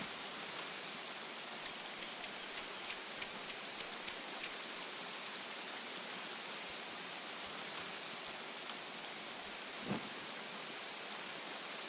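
Heavy rain in the video game Escape from Tarkov pours as a constant dense hiss, with a few sharp ticking drops early on and a soft low thump near the end.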